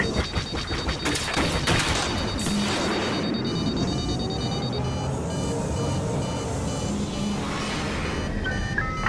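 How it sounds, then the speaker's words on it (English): Missile lock warning alarm in the Star Wars Battlefront video game, a steady high electronic tone sounding at the start amid dense battle noise and blasts, then fading under rumbling combat. "Enemy missile launch! Watch out!"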